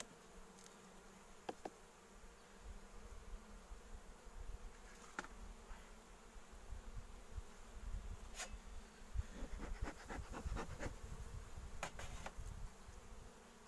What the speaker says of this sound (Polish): pszczoły wychodzą, więc trochę dmucham agresywne nie są